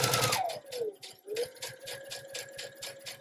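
A sewing machine stitches a flat felled seam in quick rhythmic bursts, its motor whirring up, pausing briefly, then running again in a steady even pulse at close range.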